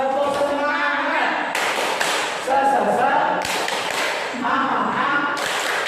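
A group of adults performs the Indonesian 'tepuk semangat' clap chant, a loud, steady run of rhythmic hand claps mixed with chanted voices throughout.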